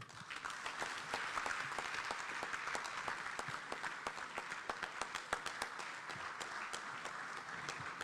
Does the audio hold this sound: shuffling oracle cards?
no